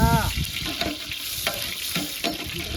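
Onion and green chili sizzle and crackle in a hot pan, a loud continuous frying hiss broken by stirring scrapes and clatters, with faint voices in the background.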